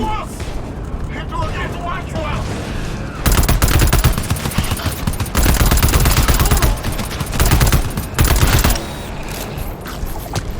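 Loud, dense bursts of automatic gunfire from the video game GTFO, starting after a few seconds of rumbling ambience and running in long sustained volleys with brief gaps, close and overpowering.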